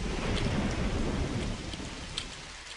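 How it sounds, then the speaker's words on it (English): A steady heavy downpour with low rumbling thunder fills a summer storm scene in the point-and-click adventure game Trilby's Notes, dense and unbroken, easing slightly toward the end, with no voices. "Summer storm raging outside"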